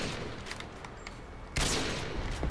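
Gunfire in an Xbox 360 shooter: scattered distant shots over a busy game backdrop, then a louder, sharper burst of rapid fire that keeps crackling to the end.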